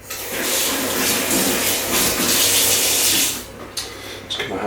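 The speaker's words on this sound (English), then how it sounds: "Just give my hands a bit of a rinse down." A water tap running steadily while hands are rinsed under it, a loud continuous splashing rush that cuts off after about three seconds, followed by a few faint drips and handling sounds.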